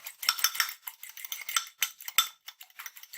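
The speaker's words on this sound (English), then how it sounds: "And just a light beating of the eggs to mix them up." Eggs lightly beaten in a bowl for breakfast, with quick, bright tapping and clinking of a utensil in rapid bursts, close and fairly soft.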